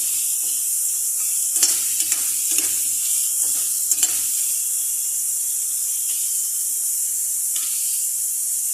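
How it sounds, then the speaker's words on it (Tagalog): Chili peppers drop into a hot pan of sautéed mixed vegetables with meatballs and string beans, setting off a steady loud sizzle with a few stirring scrapes early on, no talking. "Sili, lagay na natin yung sili."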